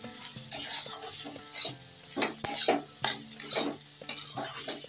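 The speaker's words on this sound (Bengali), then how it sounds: "ভালো করে নাড়াচাড়া করে নিচ্ছি।" Potatoes frying in a pan with turmeric, stirred by a spatula in a series of rhythmic scrapes over a steady, moderate sizzle, close up with no talking.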